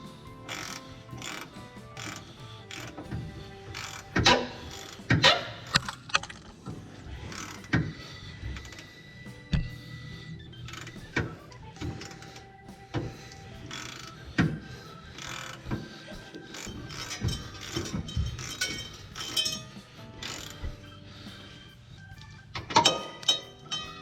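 A hand ratchet tightening shock absorber top mounts on a 1999–2007 Chevy Silverado, giving quiet, close clicks and sharp metallic taps in irregular bursts over a dull background, with no talking.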